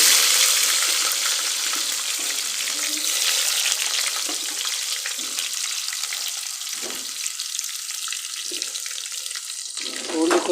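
Garlic frying in a hot pan for chicken curry, a steady bright sizzle and crackle that runs throughout, with occasional low stirring clunks and brief soft bumps underneath.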